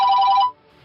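A telephone rings loudly with a bright electronic trill in a Hindi-dubbed South Indian film scene, then cuts off abruptly halfway through, leaving near silence.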